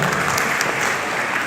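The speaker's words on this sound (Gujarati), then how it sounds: "જોરદાર તાળીઓથી વધાવી લેજો." Audience applause at a Gujarati stage programme, a dense steady clatter of many hands clapping throughout, loud and continuous.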